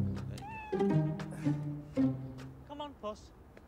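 Cartoon cat meows several times in short high-pitched calls, loud and close, with a few brief gaps between cries.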